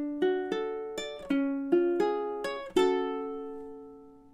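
Ukulele picks out measures 3 and 4 of a Halloween tune: about seven bright plucked notes in a steady bouncy rhythm, close and clear, the last note left ringing out alone.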